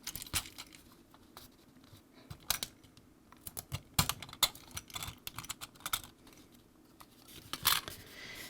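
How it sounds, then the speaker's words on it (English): Plastic faceplate being pried off a GE Jasco ZW4005 Z-Wave smart switch, heard as a run of sharp clicks, snaps and scraping taps close up, irregular and fairly quiet, with no talking. "we're going to want to pry this faceplate off. There's four little clips around the sides."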